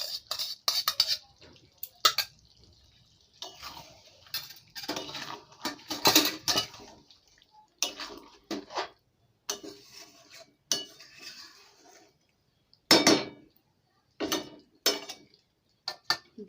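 Clinks and scrapes of a spoon stirring whisked yogurt with salt into a curry in a pot, in irregular bursts of metallic knocks separated by short quiet pauses, close and fairly loud.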